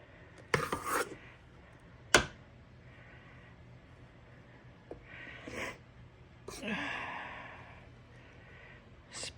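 Banana crunch cake batter being spread around in a baking pan, scattered scraping and clinking of a utensil against the pan with soft rubbing in between, close and intermittent.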